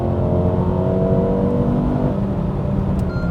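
Inside a 2021 Mercedes-AMG A35 4Matic, its 2-liter engine drones loud and steady in comfort mode, a continuous close engine tone holding under no talk.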